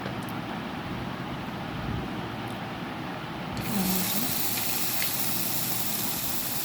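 Onions go into hot oil in a kadai wok for a chicken roast. A steady, muffled background gives way midway to a louder, bright, continuous hiss that then holds steady.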